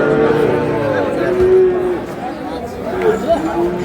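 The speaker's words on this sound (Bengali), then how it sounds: "শাহিওয়ালের ষাঁড় বাচ্চা।" A Sahiwal bull calf mooing at a busy cattle market in Dhaka or Cumilla, drawn-out lowing calls heard close, overlapping with buyers and sellers chattering in the background.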